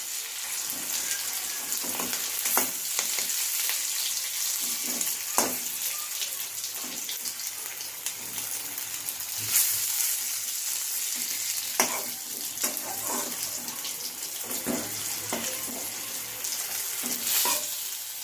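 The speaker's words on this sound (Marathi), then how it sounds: "मसाला आणि मिरच्या मंद गॅसवर चांगला असा परतून घ्यायचा." Besan-stuffed green chilies fry over low heat in a pan with masala, giving a steady gentle sizzle and occasional stirring clicks, close by with no talking.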